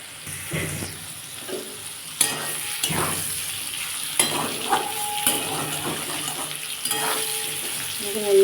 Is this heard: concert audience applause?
no